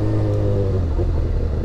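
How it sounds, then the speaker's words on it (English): BMW M4 exhaust heard from a nearby road during a group car drive: a loud, steady low engine rumble with a deep droning tone that eases off slightly near the end, with no talking. "I want to see if I can catch that M4 for some exhaust notes."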